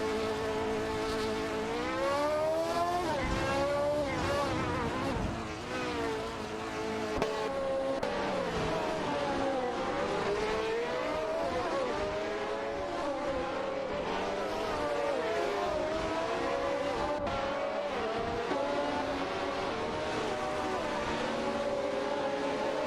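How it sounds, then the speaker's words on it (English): AI-driven race cars in a racing video game whine past one after another, their high engine notes rising and falling in repeated fly-bys that stay fairly quiet and steady. "Ready to watch some AI cars zoom by"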